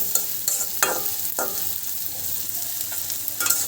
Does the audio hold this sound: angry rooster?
no